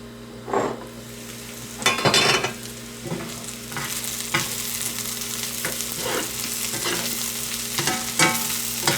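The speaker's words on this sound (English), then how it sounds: "And we're just gonna let that simmer away for a little bit." Dryad's saddle mushroom and onion sizzle in a pan, a steady close crackle broken by several louder scraping stirs of a utensil against the pan, with no talking.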